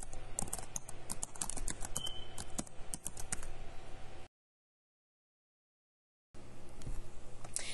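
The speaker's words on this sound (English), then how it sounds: "then of course you can type in your message" Rapid clicking of a computer keyboard as a message is typed, a close, dense stream of keystrokes that breaks off into a two-second silence before resuming.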